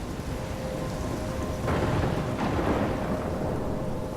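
Thunderstorm in the video game Life Is Strange: steady heavy rain with rolling thunder swelling in the middle, continuous and close, with no voices.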